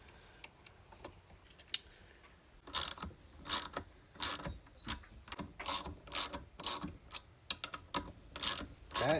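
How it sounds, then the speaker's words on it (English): Nuts being threaded onto Loctited rocker studs on a built minibike engine during a valvetrain upgrade: a close, steady run of sharp ratcheting clicks in bursts, with no talk. "We're just going to screw these nuts on."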